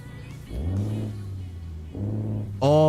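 A heavy-duty truck engine in a video game revs twice in low, rumbling bursts, rising and settling, then climbs sharply into a higher whine at the end.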